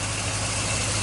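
A 1965 Chevrolet engine, running again after years off the road, idles steadily up close with a low, even rumble and a constant mechanical hum throughout.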